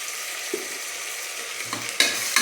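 Homemade ginger garlic paste sizzles and fries in a pan while a spoon stirs it, with close scraping strokes over a steady hiss.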